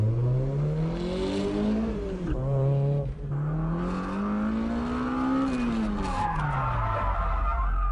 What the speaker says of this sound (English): I'm pulling the e-brake too long, letting the car slide too much.